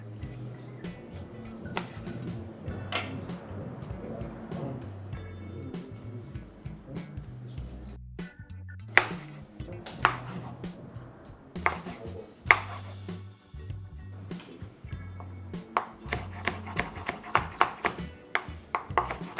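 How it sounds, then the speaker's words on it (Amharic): A knife chops tomatoes on a board for a potato and bean salad, with quick irregular close taps that cluster into rapid runs, loud and dry with no talking. "ቲማቲሙን ከትፈዋለን።"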